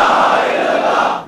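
A large crowd at a Tehreek-e-Labbaik Pakistan religious rally roars the slogan 'La ilaha illallah' in unison. The sustained, loud massed shouting fills the space, then tails off at the end.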